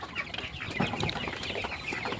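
Chickens on a poultry farm cluck and murmur in a busy, continuous chorus at moderate distance, with scattered sharper calls and no talking.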